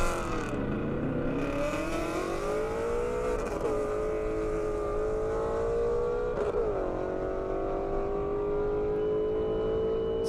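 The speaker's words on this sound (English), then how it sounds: "Mustang coming up" A Ford Mustang race car, either a 1969 Boss 302 or a GT350, accelerates hard down an airstrip, its loud engine note climbing through gear changes with a couple of brief shifts.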